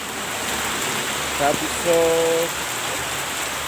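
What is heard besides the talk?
rain falling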